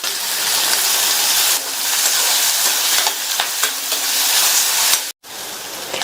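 Chopped large onion hits hot oil seasoned with cinnamon and fennel, erupting into a loud, steady sizzle and hiss with stirring scrapes, broken by a brief drop near the end.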